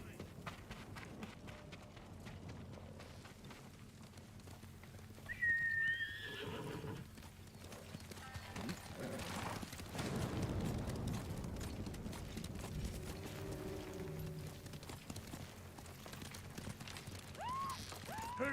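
Horse from the Ghost of Tsushima video game, galloping with steady clip-clop hooves and giving a sharp whinny, under game music and ambient effects with characters' voices speaking.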